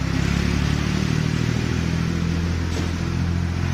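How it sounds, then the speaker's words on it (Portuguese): A tractor engine drones steadily up close with a low, rattling vibration that holds constant throughout, with no talking. "O trator vibrando."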